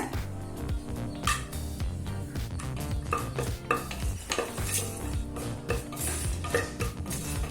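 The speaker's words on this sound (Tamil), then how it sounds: "முந்திரி நல்லா கலர் மாறுற வரைக்கும் வறுத்துக்கலாங்க" Cashews fry in ghee in a pan with cardamom and a bay leaf, stirred constantly, producing a soft sizzle and light utensil scraping over background music.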